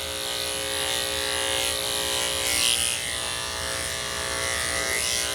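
Electric dog grooming clippers fitted with a 7 finishing blade run a shave-down on a Coton de Tulear. The motor buzz is loud and close, holds steady the whole time, and no voice is heard.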